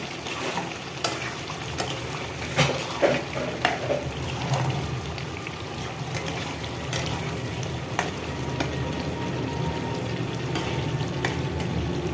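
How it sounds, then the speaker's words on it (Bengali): Meat being stir-fried in a pan, a dense continuous sizzle with scattered stirring clatters and scrapes, close and steady, with no talk. "আর সাথে আমার মাংসটা কষে দেবো"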